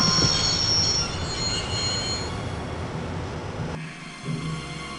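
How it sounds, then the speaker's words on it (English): A train brakes to a stop in the Broken Sword PC game, its wheels squealing loudly and continuously with a rumbling undertone, before cutting abruptly to quieter mechanical settling sounds. "I'd always wanted to stop a train, and now was my chance."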